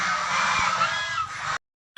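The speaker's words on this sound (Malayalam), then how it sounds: "അടുത്തായിട്ട് വരുന്ന ഗൂസാണ് ഗൂസ് ഗ്രേ കളറുണ്ട് വൈറ്റ് ഉണ്ട്" Geese honk in a noisy, harsh chorus at a poultry farm, a steady overlapping clamour for about a second and a half before it cuts off.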